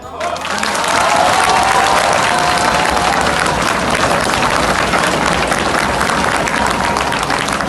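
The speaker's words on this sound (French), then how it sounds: "Et on les applaudit très" An audience at a map-drawing competition award event in Angers bursts into loud, sustained applause, with dense clapping that rises quickly and holds steady while a voice talks over it.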